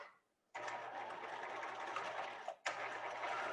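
Sewing machine running a lock stitch, a steady close whirring hum with a rapid mechanical needle rhythm, halted briefly by a short pause and then resuming.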